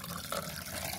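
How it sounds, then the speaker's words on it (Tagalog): Ice water is poured in a steady, close, continuous splashing rush that lasts the whole moment, with no other sound over it. "Tapos lagyan ng ice tubig dahil. Tubig na yun."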